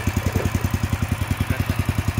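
A farm tractor engine idles with its PTO disengaged, a steady close-up chugging with an even, rapid knocking pulse and no voices over it.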